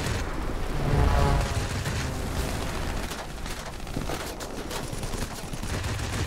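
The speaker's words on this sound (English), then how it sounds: "I hear shots pinging off of me" Gunfire in the World of Warplanes aircraft combat game, a continuous rattling barrage of shots hitting a plane, blended with a rumbling engine drone and occasional heavier thuds, fairly steady throughout without talk.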